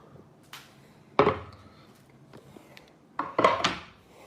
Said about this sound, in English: Chopping bell pepper.